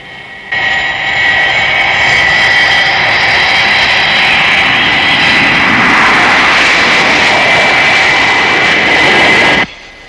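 Loud jet aircraft takeoff roar as a Thunderbirds sound effect, a broad whooshing engine blast with a high whine that swells in abruptly, holds steady for about nine seconds, then cuts off.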